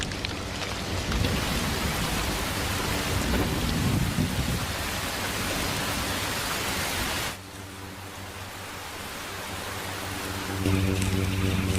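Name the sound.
rain and thunder in Star Wars Clone Wars scene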